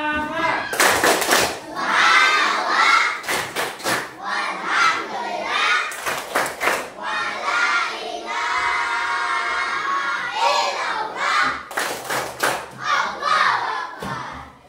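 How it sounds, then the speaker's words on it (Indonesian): Elementary school children in an Indonesian classroom do a 'tepuk semangat' clapping chant. Their voices rise together in a rhythmic chant, broken by sharp bursts of group claps and loud shouts, close and lively. "Oke, tepuk semangat."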